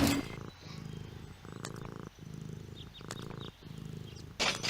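A cartoon cat purrs in repeated rhythmic bursts with short pauses in the point-and-click adventure game Deponia, with a brief higher-pitched squeal at the end.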